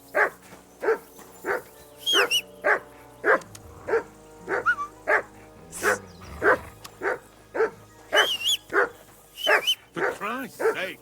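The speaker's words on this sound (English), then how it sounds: "Call off that damn dog before we roast down the last of our mates." Repeated barking from a dog in the medieval role-playing game Kingdom Come Deliverance II, sharp evenly spaced barks with occasional yips, close and loud, with game voices talking faintly underneath.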